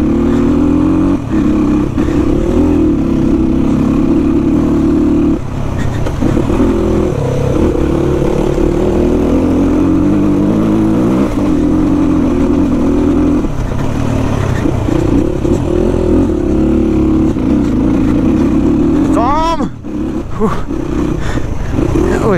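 A dirt bike engine roars at high revs, held hard in first gear on a dirt track, a loud sustained drone with brief dips, then a sharp clatter near the end.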